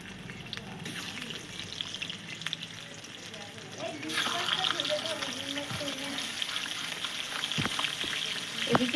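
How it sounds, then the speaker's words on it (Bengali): Fish heads drop into hot oil in a wok, the quiet background suddenly swelling into a loud, continuous sizzle and crackle that keeps going, with a few clinks of utensils. "তেল গরম হয়ে গেছে, এবার আমি মাছের মাথাগুলো দিয়ে দেবো ভাজার জন্য।"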